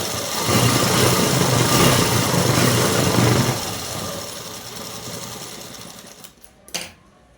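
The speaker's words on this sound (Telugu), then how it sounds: "ఇంకొక కుట్టు కూడా వేసుకోండి." Sewing machine running steadily up close for a few seconds while stitching a seam on a dress, then slowing and fading, followed by a short mechanical clack near the end.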